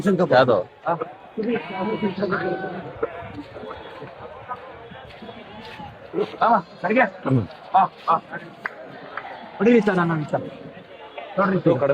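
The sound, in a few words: sheep bleating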